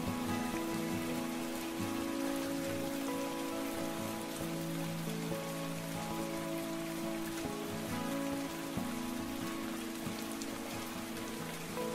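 Steady rain falling in the video game Reckless Love, a soft continuous patter on surfaces under a quiet sustained musical tone, with no voices.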